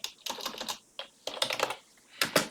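Typing on a computer keyboard, close and quiet, in three quick bursts of rapid key clicks separated by short pauses, no talk.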